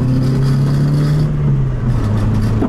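A Lada Priora car on air suspension accelerating hard to overtake a tractor, its engine note loud and steady from inside the cabin, then dipping briefly as it eases off near the end.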